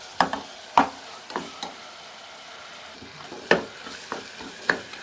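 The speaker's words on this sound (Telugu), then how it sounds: "టమాటా కూడా బాగా మగ్గనిద్దామండి" Tomatoes cooking in a pan for a drumstick mutton curry, with a low background sizzle broken by several sharp scraping knocks of a spoon against the pan, spaced irregularly and fairly close.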